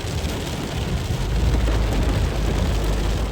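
Heavy rain pours down in the Qassim desert region, a dense, loud and steady roar of falling water with no voices.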